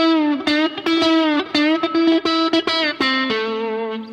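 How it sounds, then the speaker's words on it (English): An electric guitar played with the chicken-picking technique, a series of short, snappy plucked notes alternating with muted clucks, distorted and close, ending on a longer sustained note. "So that's basically the chicken picking."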